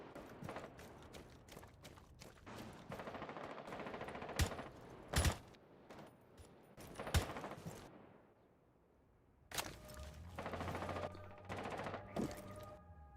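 Gunfire in a Rainbow Six Siege match: sharp single shots and short rapid bursts crack out irregularly, some loud and close, with mechanical clatter between them and a brief lull near the end.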